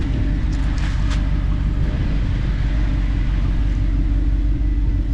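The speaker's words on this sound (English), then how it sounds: "It's getting kind of warm now, so you can kind of hear the exhaust." A supercar with 57,000 miles idles warm, its exhaust giving a steady, low, smooth rumble nearby, fairly quiet and unbroken.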